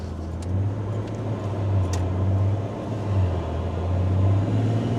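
A Land Rover Defender with a swapped-in BMW M57 diesel and 8-speed automatic drives along, its steady low engine and road rumble droning continuously from inside the cabin with no speech.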